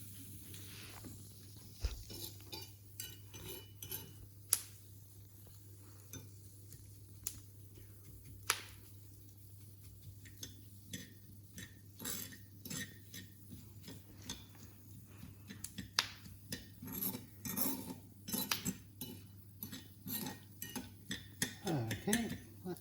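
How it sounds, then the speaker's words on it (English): Pumpkin seeds toasting in a hot pan give off scattered, faint popping ticks and light rattles in an irregular rhythm that grows busier toward the end, over a low steady hum. "sometimes the pumpkin seeds jump out of the pan"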